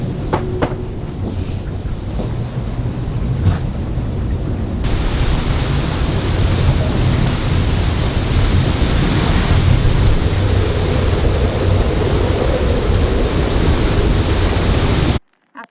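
Heavy rain and wind from a thunderstorm over Boston Harbor, a loud continuous roar of downpour with broadband rushing noise throughout, cutting off abruptly at the end.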